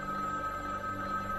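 A telephone rings unanswered in a farmhouse, heard as a steady, sustained electronic tone held at even loudness throughout, with no one speaking.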